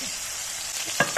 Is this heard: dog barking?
no